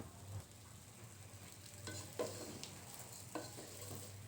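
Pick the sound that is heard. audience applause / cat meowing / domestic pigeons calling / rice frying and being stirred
rice frying and being stirred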